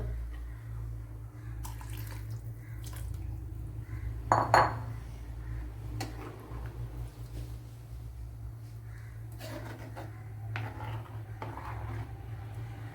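Leftover ground coconut paste is scraped out of a cooking vessel for a Kerala snake gourd theeyal, with low clinks and scrapes over a steady background hum and one louder metallic scrape partway through.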